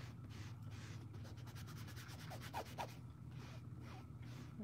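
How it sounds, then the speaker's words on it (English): Embroidery fabric rubbed by hand to clear placement marks, a soft continuous brushing and scuffing texture with a few short sharper swipes near the middle, close and steady under a low room hum. "Just rubbing it is making the placement marks go away."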